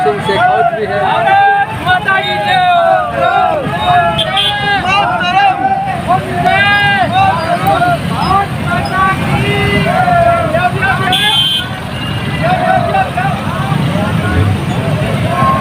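Hundreds of motorcycles in a BJP town rally for Azadi ka Amrit Mahotsav in Bhadra roll past as a steady, loud engine rumble, mixed with dense crowd chatter and shouting throughout.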